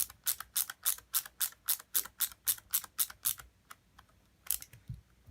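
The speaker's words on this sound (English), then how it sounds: "I have a little screwdriver. These are Allen head screws, so they should come right out." A small screwdriver working Allen head screws out of a Traxxas Slash 2WD RC car, making a quick, even run of crisp close ticking clicks that pauses and then resumes briefly.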